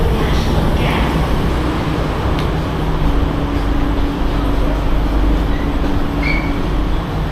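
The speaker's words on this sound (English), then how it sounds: "And here's the train." A loud metro train in Singapore rumbles and rolls into the station, with a steady low roar, rail noise and faint high squeals.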